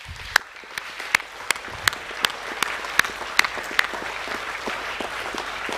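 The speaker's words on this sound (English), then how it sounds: "can we give a round of applause for the art as well" Clapping fills a hall at a school academic awards ceremony, rapid crowd applause with a few louder, distinct claps in a regular beat standing out above the wash.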